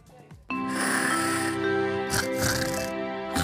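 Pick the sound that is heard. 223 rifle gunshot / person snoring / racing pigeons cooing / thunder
person snoring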